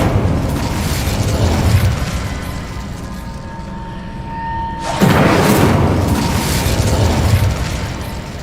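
Fiery spell blasts from the Incendio charm in Hogwarts Legacy, a loud roaring burst that swells, briefly dips, then surges again with a whooshing rumble, heavy and continuous throughout.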